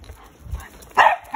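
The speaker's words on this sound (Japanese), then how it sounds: "前にワンちゃんいるね" A dog barks twice in quick succession, fairly close, over quiet outdoor background with faint rustling.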